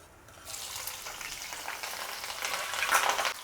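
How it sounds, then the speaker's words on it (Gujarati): Green chilli pieces frying in hot oil in a wok, a steady close hiss that starts after a brief quiet moment and swells slightly toward the end, no voices. "હવે એ જ કડાઈમાં આપણે 7 થી 8 લીલા મરચાંના ટુકડા તળી લેશું."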